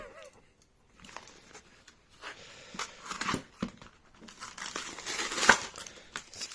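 Crinkly foil Pokémon booster packs are ripped and torn open by hand, several short crackling bursts close to the mic, with soft muffled talk between them.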